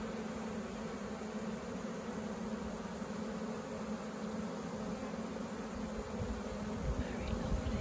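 A honeybee swarm being gathered from a tree into a hive gives off a dense, steady buzz that fills the space, close and continuous, swelling slightly louder toward the end with no talking.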